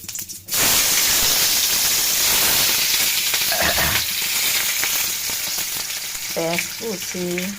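Boiled potatoes and chopped onion hit hot oil with a sudden loud burst of sizzling that holds steady and close for several seconds. A brief tonal sound appears near the end.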